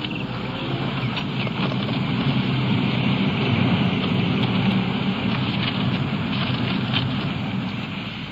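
Heavy rain pours down steadily on a summer night, a dense, constant hiss of drops on surfaces with no break, loud and close throughout.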